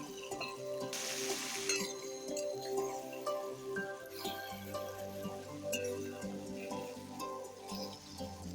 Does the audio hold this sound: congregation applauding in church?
no